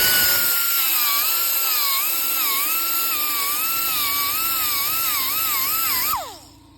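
A power tool sanding Birkenstock cork soles gives off a loud, continuous high whine with a wavering pitch under a gritty abrasive hiss, winding down abruptly near the end.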